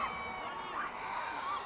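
Fans at the Berlin premiere of The Lone Ranger cheer and scream for Johnny Depp, a steady dense roar of crowd voices with shrill whoops rising and falling throughout.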